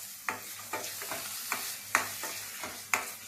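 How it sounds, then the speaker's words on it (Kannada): Masala paste mixed with yogurt fries in a pan, stirred with a utensil that scrapes in repeated close taps roughly every half second over a low, steady sizzle. "ನೋಡಿ ಫ್ರೈ ಮಾಡ್ತಾ ಇದ್ದೀನಿ"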